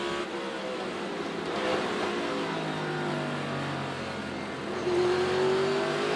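NASCAR Cup Series race cars at Martinsville Speedway during the Blue-Emu Maximum Pain Relief 400 drone through the corners, with engine pitch dropping on a downshift and then climbing as a car accelerates, heard steadily without voices.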